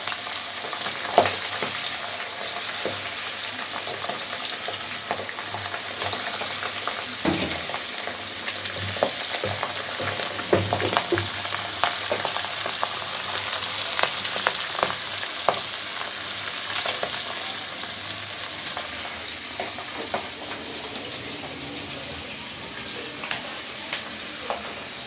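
Pabda fish frying in hot oil, a steady dense sizzle with crackling pops and occasional stirring scrapes throughout, fairly close and continuous with no voices.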